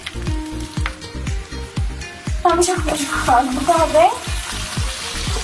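Spices hit a pan of onion and chilli browned for pasta and fry with a loud, crackling sizzle, punctuated by rhythmic knocks of a stirring spoon, while a voice speaks briefly over it.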